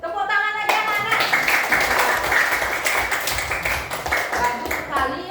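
A class of primary schoolchildren claps hands together in a lively, dense burst lasting several seconds, with a voice speaking just before the clapping starts and voices heard again near the end.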